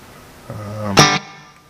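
A Squier Classic Vibe Telecaster in Butterscotch played through a Vox AC30 amp: a brief strummed chord rings out, then a brighter, louder stab that cuts off quickly, heard alone.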